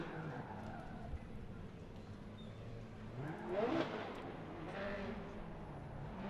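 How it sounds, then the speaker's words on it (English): A Formula Drift pro car warming its tires in a burnout box at a Long Beach round, engine droning and swelling into a brief revving rise midway, heard from a distance under low crowd ambience. "You can see Castro warming up his tires in that Pedal Commander burnout box."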